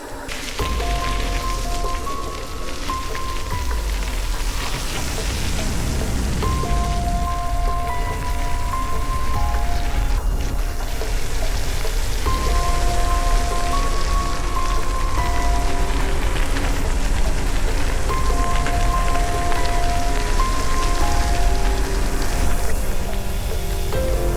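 Steady rain patters continuously on a surface close by, a dense hiss that carries on for the whole stretch, with faint tonal sounds in the background and no talk.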